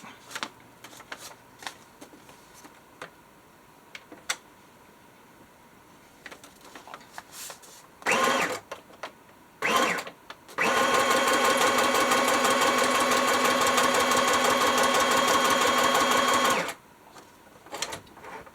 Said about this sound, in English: I'm going to start sewing at the top, and I'm going to go all the way around.